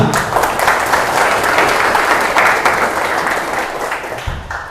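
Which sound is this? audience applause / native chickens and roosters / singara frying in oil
audience applause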